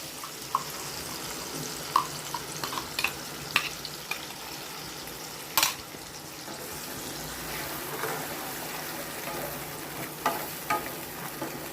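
Spice paste frying with soft eggplant in a pan gives a continuous low sizzle, broken by scattered clinks and scrapes of stirring, with one sharp knock midway.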